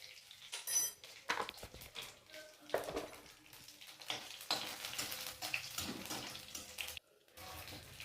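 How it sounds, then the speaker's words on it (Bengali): Cumin seeds frying in hot oil with bay leaf and whole dried chillies in a pan, a soft, steady sizzle broken by clinks and scrapes of a utensil against the pan, fairly faint and close. "জিরেটা ভাজা হয়ে গেছে,"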